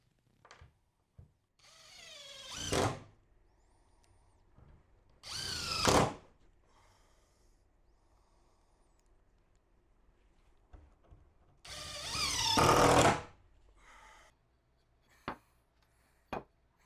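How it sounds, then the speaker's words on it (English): A power drill drives corrosion-resistant construction screws into a 2x4 frame to hold the top of a prototype truck bed box. Three loud whirring runs sound close against a quiet background, with a few sharp knocks between them. "I'm getting the top attached to the frame using corrosion resistant construction screws and making sure this is nice and tight"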